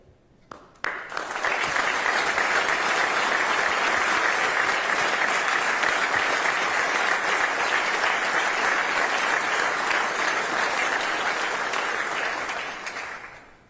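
A standing audience at a live news event applauds and cheers, the sustained clapping starting abruptly after a brief lull, holding steady for about ten seconds and then tapering off.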